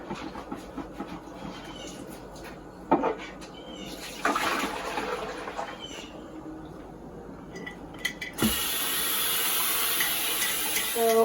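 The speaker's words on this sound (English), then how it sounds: "So I'm just washing with hot soapy water." Glass jar being washed by hand in hot soapy water at a kitchen sink while making homemade pickles, with running tap water, splashing and clinks of glass, and the water growing louder and steadier toward the end.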